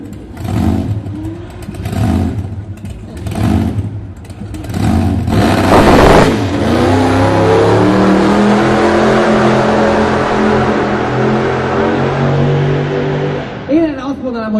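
A Chevrolet Camaro Z28 race car with a supercharged 8500 cc V8 of about 1500 horsepower roars loudly on a track, with short revving bursts building to a long, sustained full-throttle scream that fades near the end.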